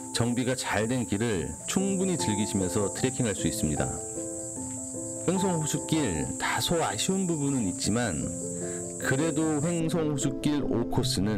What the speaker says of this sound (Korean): 요즘 저녁이면 귀뚜라미 소리가 들리는 것이 가을이 다가온 듯합니다